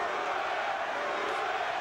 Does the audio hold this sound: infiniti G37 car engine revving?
no